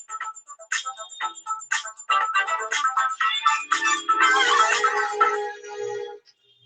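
A phone ringtone plays a bright electronic melody of repeated tonal notes that builds and thickens toward the end, fairly close and with no voices over it.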